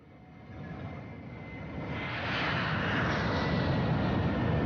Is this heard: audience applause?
no